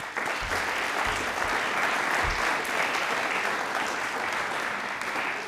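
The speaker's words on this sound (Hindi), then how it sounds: "एक बार तालियां प्लीज़ जोरदार हो जाएं।" Studio audience at a DD Rajasthan television quiz show breaking into loud, sustained applause, dense and even clapping that continues steadily for several seconds.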